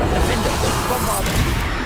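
Bombarda explosion spell in Hogwarts Legacy gameplay, a loud booming blast with rumbling debris, dense and continuous under a voice calling out spell names.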